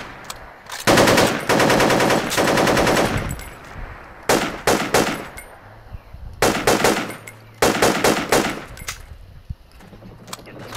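Automatic gunfire in the military shooter game Project Reality, during a tunnel defence: several long, rapid bursts of loud, close firing, separated by short pauses, with no talk in between.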